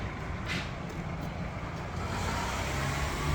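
A car passes along a street in the Altai region of Mongolia, a faint continuous rumble of traffic that swells slightly toward the end, with no voices.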